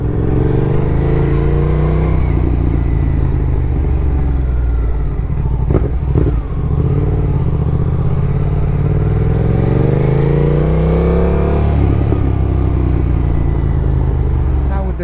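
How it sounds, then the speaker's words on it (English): A loud, throaty Suzuki GSX-8S motorcycle with a tune and aftermarket full exhaust idles and then revs repeatedly, its pitch rising and falling in sharp blips, close by with no talk. "Now with the tune and the full exhaust, this bike sounds amazing."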